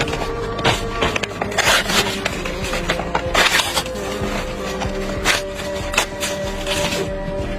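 Paper from a passport and an air ticket being ripped and crumpled by hand, with repeated tearing bursts and rustling scrapes spread unevenly across the clip, close up.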